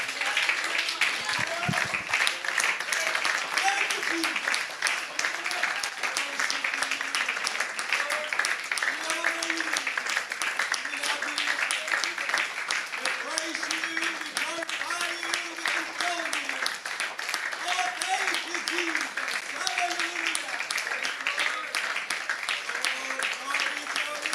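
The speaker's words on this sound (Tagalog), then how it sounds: "ang para sa Diyos na palakpak" A church congregation keeps up sustained applause for God, steady and even throughout, while a voice and singing carry on over the clapping.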